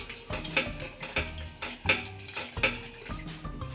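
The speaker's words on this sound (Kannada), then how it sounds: "ಇದನ್ನು ಹಾಕಿ ಒಂದು ಸೆಕೆಂಡ್ ತಿರುಗಿಸಿದ್ರೆ ಸಾಕು" A spoon scrapes and knocks rhythmically against a pan while puliyogare gojju is stirred, about four clear metallic clinks in a steady back-and-forth, close and fairly loud with no talking.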